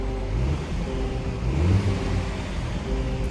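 A 2023 Range Rover Evoque HSE P250 R-Dynamic accelerates with a smooth, low, steady engine hum, heard close and moderately quiet, without any sporty growl.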